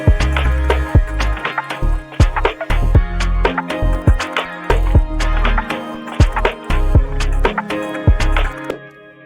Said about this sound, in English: So the verse is super poppy and it sounds like this.